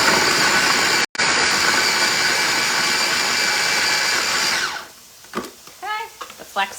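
A food processor chops peppers for taco chili mac, a steady loud whirring motor drone that runs for about four and a half seconds with a brief cut near the start, then stops as a voice begins talking.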